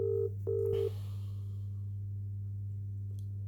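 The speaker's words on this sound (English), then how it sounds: "Ringing up Jonathan Smith." An outgoing telephone call rings out, two electronic ringback tones close together followed by a faint line hiss and a steady low hum.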